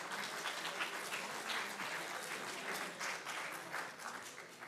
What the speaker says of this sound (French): Applaudissements pour les Redouteurs.